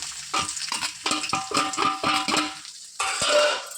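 Chopped ginger and garlic fry in hot oil in a kadai, a soft sizzle broken by rhythmic scraping and clinking of a spoon stirring against the pan, with no voices.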